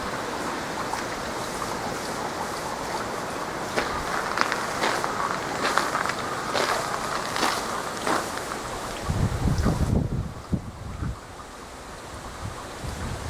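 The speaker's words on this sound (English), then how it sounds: "A little wind, it's still blue sky out." Wind blows steadily outdoors in a snowy village in Mie Prefecture, Japan, a constant roar with a few gustier swells and some rustling and crunching near the end, and no one speaking.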